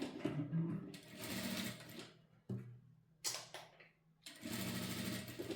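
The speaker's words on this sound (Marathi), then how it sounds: "तर अस्तरच्या कडेने आपल्याला इथे शिलाई मारायची आहे." A sewing machine stitches along the lining edge of a princess-cut blouse, running in steady bursts broken by short pauses, close and clear.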